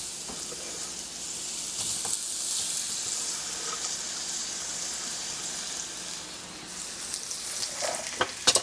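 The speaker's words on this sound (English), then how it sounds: "Let's add our onions in." Onions dropped into hot oil in a pan give a steady, fairly loud broadband sizzle throughout, with a few crackles and light clatters near the end.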